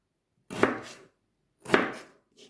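A knife chops through a Vitelotte potato on a board: two firm, crisp cuts about a second apart, then a faint third tap, close and otherwise quiet.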